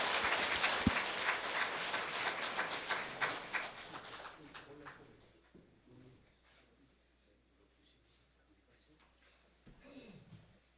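Applause from a church congregation at a Lenten lecture, loud sustained clapping that fades out after about five seconds, followed by near silence and a brief voice at the end.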